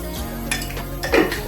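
A spoon scraping and clinking against a pot while a litre of milk is stirred, a few soft metallic knocks over a steady low background.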